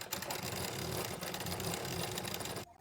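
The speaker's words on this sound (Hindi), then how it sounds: "पे सिलाई लगाना चालू करेंगे।" A sewing machine stitches a strip of blouse lining fabric in a fast, rapid rattle that runs steadily and close by, then stops abruptly near the end.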